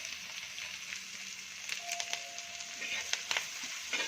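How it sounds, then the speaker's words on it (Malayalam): Onions and tomato sautéing in a pan for a chicken dish: a soft, steady sizzle broken by scraping and clinking stirring strokes near the end, with a faint voice in the background. "എന്നിട്ട് എല്ലാം കൂടി നന്നായിട്ടൊന്ന് വഴറ്റിയെടുക്കുക"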